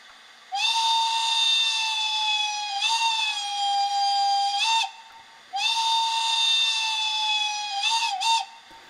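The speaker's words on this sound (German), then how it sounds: "mit F2 der Pfeife, länger sie drauf bleiben, umso länger pfeift natürlich die Lok" A shrill whistle from a model Class 78 (T18) steam locomotive with an ESU sound decoder sounds in two long blasts, each ending with short chirping toots, loud and close with silence between.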